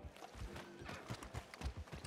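Horse hooves clop in Red Dead Redemption 2, a western video game, as a series of soft, uneven thuds at moderate distance over faint ambient background.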